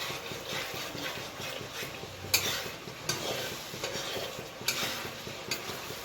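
Ginger garlic paste fries in a pan for chicken biryani, giving a steady low sizzle broken by several sharp clicks and scrapes of a spoon stirring against the metal.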